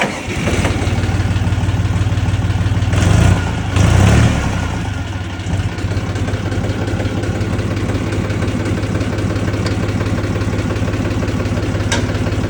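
A DongFeng 244 tractor engine from 2012 cranks and catches with a couple of loud surges, then settles into a steady, rumbling idle that continues close by.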